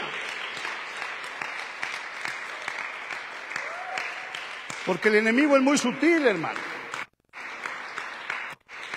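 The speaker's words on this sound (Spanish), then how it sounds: "denle un aplauso al Señor ahí fuerte para que no se duerma" A church congregation claps loudly for the Lord, a steady crowd applause running throughout while a preacher speaks over it and a sung or shouted voice rises midway.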